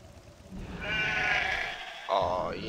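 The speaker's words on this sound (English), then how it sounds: "Look at all them sheep." Sheep in the World of Warcraft video game bleat twice in quick succession, loud and close, over faint background game sound.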